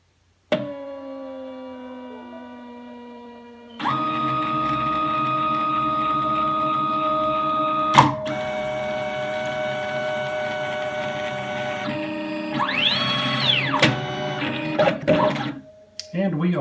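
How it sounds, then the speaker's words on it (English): A vinyl cutting machine measures out a sheet of heat transfer vinyl, giving a steady motor whir and hum with a sharp click partway through and a rising, sweeping mechanical tone near the end. "turn the machine on, and it will measure the material out."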